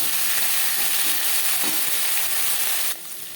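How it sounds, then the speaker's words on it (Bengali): Eggplant pieces sizzle steadily in hot oil with panch phoron, a dense continuous frying hiss close to the pan that drops in level near the end. "পনেরো কুড়ি সেকেন্ড পাঁচফোড়ন ভেজে নেওয়ার পর দিয়ে দেবো বেগুন।"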